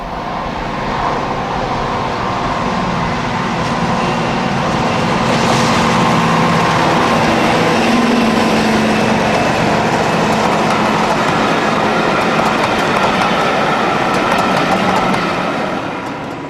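Deltic 9 diesel locomotive working hard at Darnholm, a loud, steady engine roar with rail rumble building as it draws near, holding strong and easing slightly at the end, with no voices.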